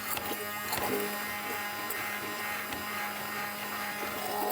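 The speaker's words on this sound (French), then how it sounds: "il n'y a plus qu'à mixer. Ça épaissit." A blender whirs steadily as it mixes a vanilla cream for a winter tatin with caramel, the cream thickening in the jar; a continuous close motor drone with a buzzing hum runs throughout, with no speech over it.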